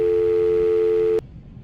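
A steady electronic phone tone from the game Night Shift at Gerald's: Reimagined sounds loud and alone for about a second, then cuts off abruptly as a hung-up call ends, leaving faint room noise.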